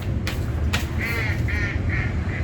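A duck quacks outdoors in a short series of four calls, moderately distant, over a steady background hum with a couple of sharp knocks before the calls.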